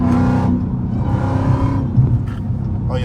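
A Hellcat car speeding on a highway, with a loud, close engine drone and road roar throughout, shifting in pitch as it accelerates, with someone talking over it.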